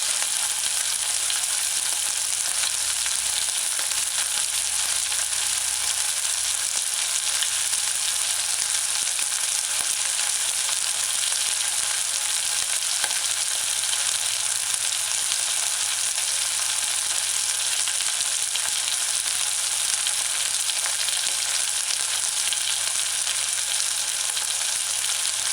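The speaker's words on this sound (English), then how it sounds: "Add the chicken pieces that's been marinating. Alright, it's gonna stick somewhat, but just allow it to fry." Marinated chicken pieces fry in a hot wok for a chicken broccoli stir-fry, giving a loud, steady broadband sizzle that holds without pause for the whole stretch, with no voices.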